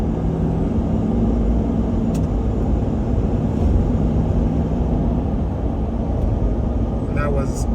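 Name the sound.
2022 Ford F350 Tremor cab noise accelerating at 65 mph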